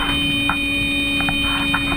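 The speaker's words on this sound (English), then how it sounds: "Suddenly, the alarm sounds." An airplane cockpit alarm sounds as a steady, loud electronic tone with constant pitched lines, interrupted by a few short higher blips, with no talking.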